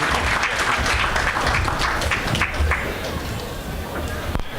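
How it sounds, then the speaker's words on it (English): Applause from a conference audience after a speaker is introduced at a cloud security keynote event, steady and fairly loud across the room with some crowd murmur mixed in, tapering slightly near the end. "let's have a round of applause for Reed."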